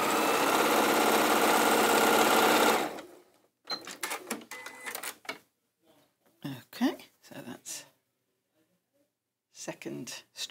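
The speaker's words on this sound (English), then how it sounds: "So now we're going to sew the second one." A sewing machine stitching a strip onto a Moda kimono quilt runs steadily and loudly for about three seconds, then stops. Talking follows, along with a few soft handling sounds.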